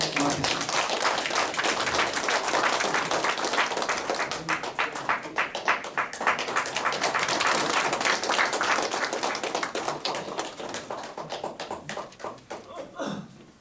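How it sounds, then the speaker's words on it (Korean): Audience applause in a lecture hall welcoming a former Catholic University professor speaking on preventing depression and dementia in old age: steady, dense clapping that thins and fades toward the end. "뜨거운 박수로 환영해 주시면 고맙겠습니다."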